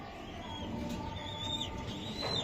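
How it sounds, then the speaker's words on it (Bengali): A racing pigeon coos softly, low and faint against a quiet background, with a few faint high chirps from other birds nearby. "এটা কবুতর একদম পুরা সুন্দর"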